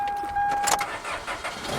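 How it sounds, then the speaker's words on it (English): A car engine cranks and catches, then keeps running with a steady rumble, fairly close, with the hood cracked open. "make sure that the car starts up"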